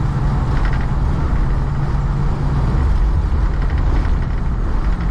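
Inside a 1988 Dodge Ram B250 Safari van on the move, a loud, steady rumble of engine and road noise fills the cabin without a break.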